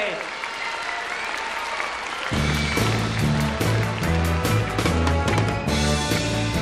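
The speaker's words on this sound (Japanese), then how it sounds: "白組の皆さんにどうぞ皆さんもう一度素敵な拍手をお送りください" TV studio audience at a 1977 children's impressions song contest applauds the white team, a steady mass of clapping that continues as band music with a bass line starts up beneath it partway through.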